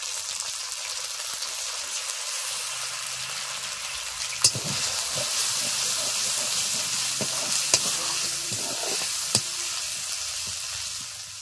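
A poppy seed and cashew paste fries in a pan with a steady close sizzle and hiss, broken by a few sharp clinks of a utensil against the pan.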